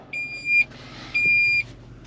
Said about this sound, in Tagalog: Ay, nag-alarm na yung ating ano, battery ano.